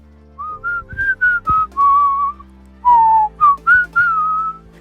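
A person whistles a jaunty theme tune up close, clear bright notes in two short phrases separated by a brief breath, alone with no talking.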